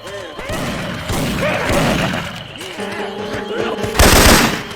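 Rapid machine gun bursts from Left 4 Dead 2 modded with Syphon Filter weapon sounds, loud and continuous with thuds and a heavy blast near the end, mixed with game voice callouts.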